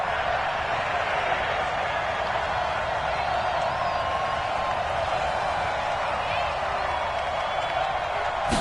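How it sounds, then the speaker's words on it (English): Stadium crowd in a PS4 football video game, a steady dense roar of cheering fans rising ahead of a big third down and holding at an even, fairly loud level throughout. "The crowd getting into it as we come up on a big third down."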